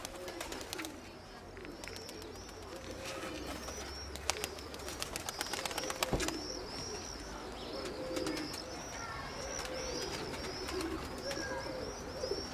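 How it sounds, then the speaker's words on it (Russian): Pigeons coo steadily through a loose outdoor flock, with soft wing flutters and brief chirps scattered over a constant low background, young birds being released to fly. "Выгоняй все голубей."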